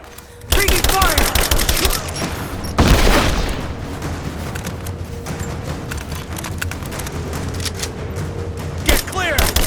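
Gunfire and grenade explosions in Rise of the Tomb Raider: dense bursts of shots with a heavy boom partway through, loud and close, amid battle noise and shouted voices.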